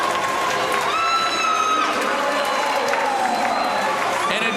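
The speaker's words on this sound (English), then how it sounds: "a deserved standing ovation in the crowd" Arena crowd at a hockey game roaring and cheering in a standing ovation after a home win, a dense steady wash of applause and shouts with whistles and horn-like tones over it, continuous and loud throughout.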